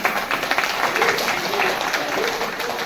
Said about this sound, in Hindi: अब जोरदार ताली बजाओ